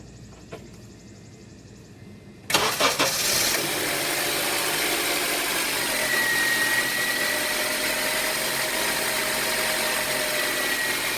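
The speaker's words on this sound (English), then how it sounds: "let's go in and start up the engine and see how everything runs" A Honda car engine cranks and catches after a couple of quiet seconds following an oil change, then settles into a steady, close idle with a constant low rumble and hum.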